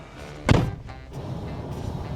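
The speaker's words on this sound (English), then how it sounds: "I am gonna close the door harder." A car door on a worn, cheap used car is shut hard in a single loud thump, followed by faint background hiss and rattle.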